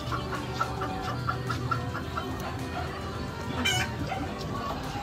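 Chickens clucking in short, repeated bursts over a steady background of farmyard noise, with no talking.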